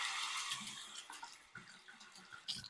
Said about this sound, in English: Soak it under the hot water.